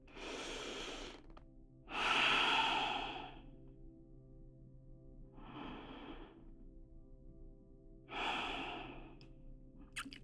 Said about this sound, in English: Take 2 more breaths here.